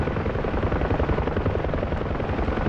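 A helicopter practicing nose-in hover turns gives off a loud, continuous rotor thrum and engine roar, steady and close, as if heard from inside the cabin.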